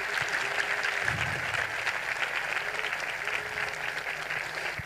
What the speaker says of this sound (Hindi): नहीं, सारे जोरदार तालियां खुदावंद के जलाल के लिए।